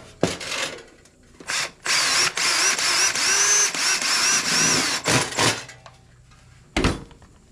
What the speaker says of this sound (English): Let's see if we can get these tech screws to do their job.